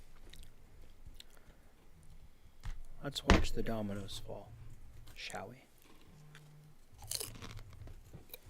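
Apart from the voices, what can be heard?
Dorito crunch sound effect of a villain eating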